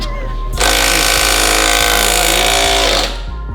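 A power tool runs loud and steady in a garage where a wrecked RWB Porsche is being rebuilt, starting abruptly after a brief pause and cutting off near the end, with a low hum underneath.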